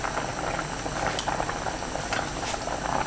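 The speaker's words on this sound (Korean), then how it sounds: "감자, 육수 재료 넣고 뚜껑 닫아서 센 불로 끓입니다." Potatoes and soup stock in rice-rinsing water boil hard over high heat in a covered pot, a steady dense bubbling with soft pops throughout.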